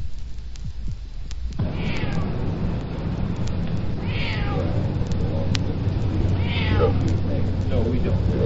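A cat meows a few times, drawn-out cries rising over a steady low rumble and background voices in a neighborhood street scene from a 1957 police drama.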